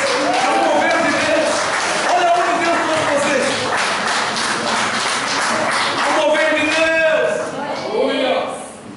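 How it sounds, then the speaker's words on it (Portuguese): A congregation claps together during a church service, steady broadband applause running for several seconds beneath a voice that keeps talking over it, fading toward the end. "Uma salva de palmas pelo Espírito Santo que traz vocês."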